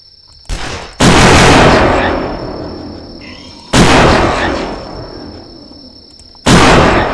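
Three loud rifle shots from the Last Stand video game, each a sharp crack followed by a long decaying boom, spaced a few seconds apart over a faint steady tone.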